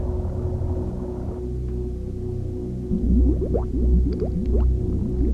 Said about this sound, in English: the lovely bubbling, gurgling sounds of her chamber